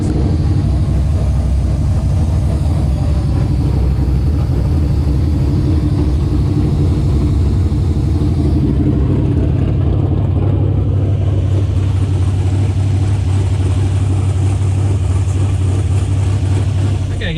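Drag race car engine running at a shop before a test-and-tune day, a loud continuous low rumble with an uneven idle and a shift in tone partway through, with a voice heard over it.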